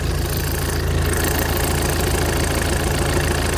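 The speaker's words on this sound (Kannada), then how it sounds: "ಗಾಡಿ ಇಂಜನ್ ಚಾಲು ಮಾಡೀನಿ ನಿಮಗೆ." A Tata Nexon's engine idles steadily and close by, a smooth, even low rumble with a faint regular pulse throughout and no talking.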